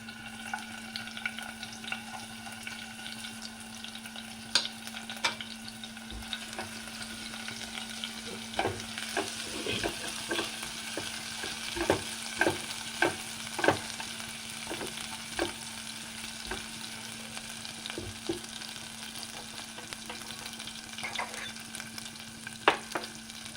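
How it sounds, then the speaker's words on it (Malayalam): Chopped ginger and garlic sizzle in hot oil in a pan as they are stirred for a soybean fry. A constant crackling hiss runs throughout, broken by repeated sharp scraping strokes of the spoon, close up with no talking. "എണ്ണ ചൂടായിട്ടുണ്ട്. നമുക്ക് അതിലേക്ക് ഇഞ്ചി, വെളുത്തുള്ളി ഇതെല്ലാം ഇട്ട് കൊടുക്കാം."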